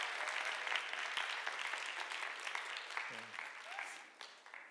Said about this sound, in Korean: 다시 한번 수고한 한나자매하고 고지연마을 위해서 큰 박수 한번 하겠습니다